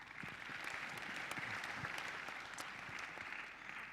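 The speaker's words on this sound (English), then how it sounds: "a round of applause for the panelists" Audience applause for the panelists at the NewCities Summit opening panel, steady dense clapping from a sizable crowd, fairly faint and distant, sustained evenly for a few seconds without voices.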